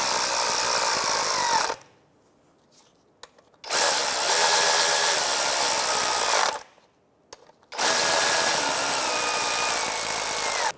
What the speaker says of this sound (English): we're just gonna snug these up and then we'll torque it down